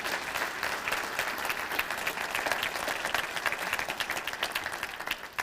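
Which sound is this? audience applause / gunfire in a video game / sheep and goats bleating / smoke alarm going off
audience applause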